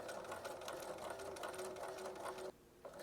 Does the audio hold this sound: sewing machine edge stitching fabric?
yes